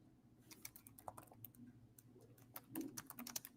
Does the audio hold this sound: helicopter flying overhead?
no